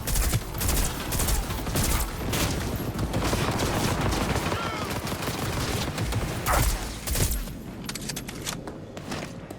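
Dense, sustained gunfire from a Cyberpunk 2077 firefight, with rapid bursts and heavy booming shots layered continuously, loud and close, with a brief lull near the end.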